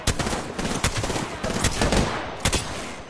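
Bursts of gunfire from an online shooter game ring out in loud, uneven volleys, sharp cracks clustered in quick rapid-fire strings with short gaps between them.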